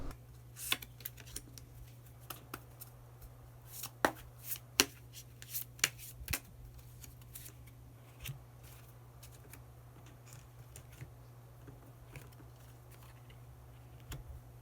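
Tarot cards are shuffled and drawn, giving faint, scattered crisp snaps and flicks over a low steady hum in a quiet room, with no talking.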